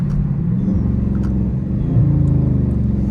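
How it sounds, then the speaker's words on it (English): A Dodge Charger Scat Pack shifts down through its gears with the paddle shifters, its engine rumbling loud and close and swelling slightly with each downshift, with no talking. "And then you hear the downshifts"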